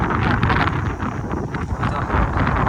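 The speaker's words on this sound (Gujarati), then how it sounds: "ઠંડો પવન જ એવો" Cold wind gusting steadily across an outdoor microphone, a continuous broadband rush with buffeting surges throughout and no voices.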